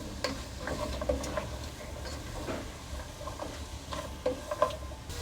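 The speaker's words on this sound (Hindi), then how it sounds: "तो गाजरों को भी हम यहाँ पे जो है 2 से 3 मिनट हम भून लेंगे इसको।" Carrots sauté softly in a pan for a macaroni and vegetable dish, a faint low sizzle broken by light clicks and scrapes of stirring, with no voices.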